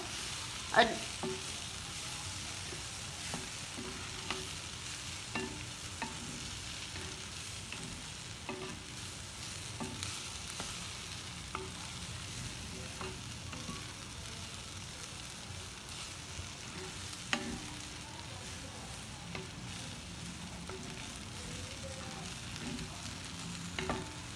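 Pasta seasoned with Maggi masala-e-magic is stirred in a pan, a soft continuous sizzle broken by light scraping knocks of the utensil at irregular intervals, no voices over it.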